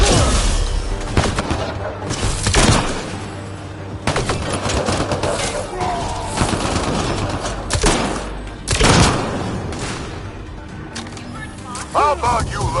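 Gunfire in the video game Mass Effect Andromeda during a firefight on the desert planet Elaaden, with repeated loud bursts and sharp shots mixed with in-game voices talking, close and intense.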